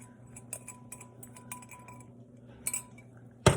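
A whisk beats half and half and flour together in a bowl for slow cooker cheesy potato soup. It makes faint, irregular metal clinks and ticks over a low steady hum, ending in one louder clatter.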